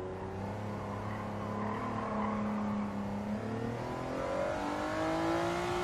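Honda car engine in the Gran Turismo 7 racing game, a smooth continuous hum that rises and shifts in pitch as it revs up through gears, steady and close with no talk.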